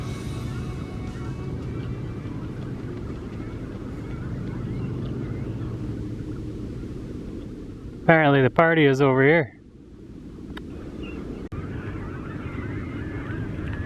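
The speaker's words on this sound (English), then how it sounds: "There are thousands of birds here." A flock of birds on the Mississippi River honks and calls in a loud burst of about a second, after steady wind and water noise and someone talking nearby.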